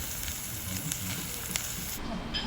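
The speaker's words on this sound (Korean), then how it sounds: "돌솥비빔나왔는 진짜 맛있을 것 같아요. 지글지글 소리." Steady, dense sizzling crackles up close, a continuous hiss of bibimbap searing in a hot stone pot that cuts off abruptly near the end.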